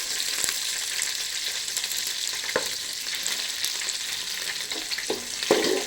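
Cinnamon, cloves, cardamom, marathi moggu, green chillies and curry leaves frying in oil for biryani make a steady close hiss and crackle, with occasional stirring knocks and no speech.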